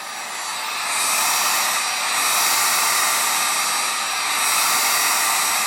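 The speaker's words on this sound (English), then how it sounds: "Always keep the heat gun moving." A heat gun blows hot air to shrink hair, held a couple of inches away and kept moving. It makes a loud, steady rushing whoosh that swells in the first second and then holds with slight surges, and no one speaks.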